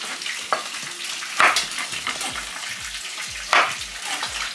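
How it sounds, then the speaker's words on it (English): Red snapper frying in a pan, a steady close sizzle with a few sharper crackles and utensil clinks, under quiet kitchen sounds and with no talking. "My fish is frying now"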